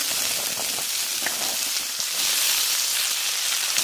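Cubed potatoes hit a pan of browned onions and fry with a steady, loud, dense sizzle that crackles on without pause and with no talking over it.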